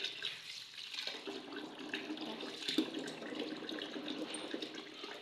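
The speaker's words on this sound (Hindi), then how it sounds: "हमने कद्दूकश कर ली हैं, अब हम इनको धो रहे हैं मल मल के अच्छी तरह से" Grated ingredients for a halwa are washed and rubbed by hand under running water, a steady close splashing and trickling with soft sloshing, fairly quiet and alone.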